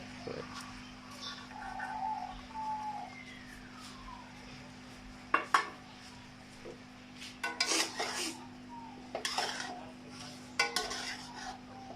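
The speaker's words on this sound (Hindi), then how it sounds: "अभी ये गोभी के अंदर में ये डाल रहा हूँ मटर।" Shelled peas go into a pot of cauliflower in a home kitchen, with scattered metallic clinks and scraping of a spoon against the pot, some louder knocks bunched near the end over a steady hum.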